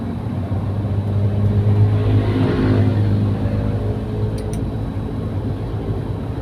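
Suzuki Katana motorcycle engine running up close while its ignition (delco) timing is being set, a steady droning hum with a mild rise in revs partway through; no talking.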